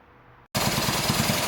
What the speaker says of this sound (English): Alright, well, we got it idling.